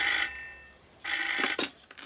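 A telephone rings in a home setting: bright electronic trilling bursts sound in a repeating pattern, with short pauses between them.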